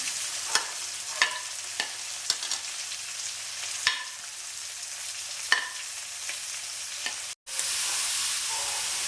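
Onions hit hot coconut oil and fry with a continuous hiss, broken by a handful of sharp stirring scrapes and spits, close up; a brief dropout near the end is followed by a louder, brighter sizzle.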